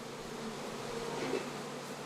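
Honeybees hum in a dense, continuous drone while hives are packed for shipment to Canada for crop pollination, a steady buzzing swarm with no voices.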